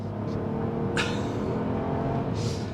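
A 2022 Chevy Trailblazer RS AWD with its 1.3-liter engine accelerating hard out of a tight corner, a steady loud engine drone from inside the car with brief higher bursts.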